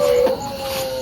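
A dog howls at night in a village, a single drawn-out wavering cry, close and fairly loud, with no other sound around it.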